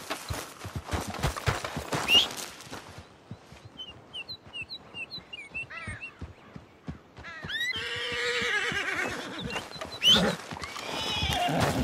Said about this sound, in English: here is my big, strong, brave Hungarian half-bred running away from a little old snake